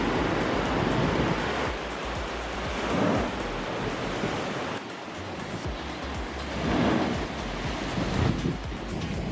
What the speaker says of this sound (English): the tide rushes in and then poofs happen and water disappears in places